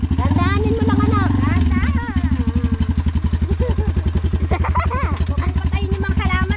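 An ATV engine revs as the rider presses the accelerator, a loud close mechanical rumble with rapid pulsing firing beats and rising pitch swells, while people talk over it throughout.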